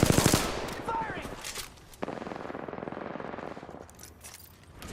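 Rapid automatic gunfire from enemy players in the Apex Legends battle royale game, dense bursts crackling close and loud with a sharp burst at the start and another around the two-second mark, continuing under game noise.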